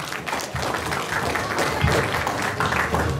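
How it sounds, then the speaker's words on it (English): A crowd at a wedding reception gives a round of applause, a dense wash of clapping held at an even level from start to finish, with a few voices mixed in. "Round of applause."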